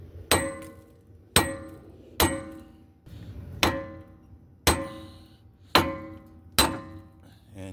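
A hammer strikes the side of a steering knuckle on a 2015 Dodge Durango with the 3.6L engine to knock a tie rod loose, giving eight sharp, evenly spaced metallic blows that ring briefly after each hit.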